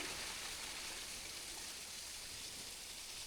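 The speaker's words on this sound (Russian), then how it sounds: "Водопад." A small waterfall beside a road in the mountains of the Yakutsk–Magadan route, heard as a steady, even hiss of falling water, faint and continuous with no voices over it.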